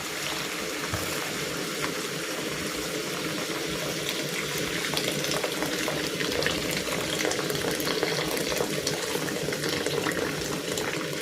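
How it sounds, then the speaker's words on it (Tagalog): Hot water being poured into a cooking pot for Bicol-style pancit bato, a steady rushing, bubbling pour that runs close and continuous for the whole stretch with no voices. "Maglalagay na ako dito ng hot water."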